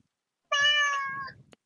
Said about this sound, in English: Poggers, we got a meow